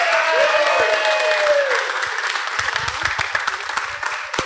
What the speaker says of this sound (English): Let's make a round of applause for Maddie, please.